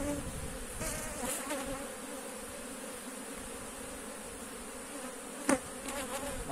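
Honeybees buzz steadily at an open hive during an inspection, a dense continuous hum close by with a single sharp knock near the end.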